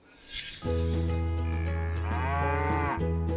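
A cow gives one long, loud, sustained moo that starts after a short quiet moment and holds steady almost to the end, dipping briefly near its close.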